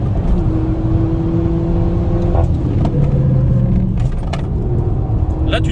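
Peugeot 208 GTi driven on a race circuit, its engine note droning steadily and shifting pitch as it accelerates, with a voice speaking over the cabin noise.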